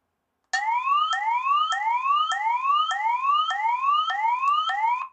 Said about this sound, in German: Und man hört die Sirene der Kamera.